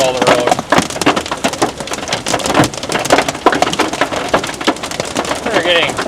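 Pea-sized hail pelts a storm-chasing truck on the High Plains in a dense, loud, continuous clatter of hard impacts on the roof and body, with faint voices underneath.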